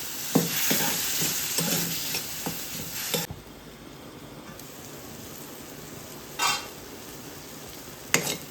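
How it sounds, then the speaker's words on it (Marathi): Gravy cooks in a pan after a couple of spoons of water are added: a stirring, scraping sizzle for a few seconds, then a quieter simmering hiss with occasional clatter of a spoon or lid. "थोडंसं पाणी घालायचं 2 चमच आणि जरा शिजवून देणार आहे"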